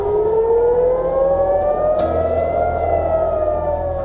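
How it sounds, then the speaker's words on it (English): A loud air raid siren wails continuously, its pitch slowly rising, with a low rumble joining partway through. "Air raid sirens are wailing."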